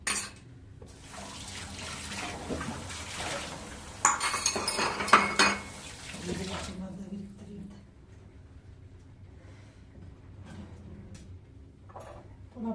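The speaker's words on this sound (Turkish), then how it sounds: "Şöyle bulaşıklarımı da bir yanına biriktireyim." Dishes and cutlery clink and clatter as they are set down near running tap water, with a louder burst of clanking in the middle and brief talk.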